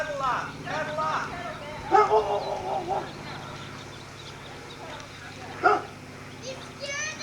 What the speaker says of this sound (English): You scared that dog.